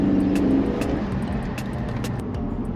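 A 1967 Ford GT Falcon with a six-speed automatic revs its engine while driving, a steady mid-pitched roar that swells briefly at the start and then settles into a continuous hum.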